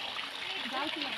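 Water emptied from a bucket splashes and gushes into a drain during a campus cleaning program, a steady wet rush with voices talking over it.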